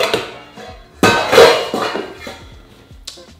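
Metal cooking pot and bowls from a travel kitchen kit clank and clatter as they are handled, with a sharp loud knock followed by scattered lighter clinks and scrapes, close and without talk.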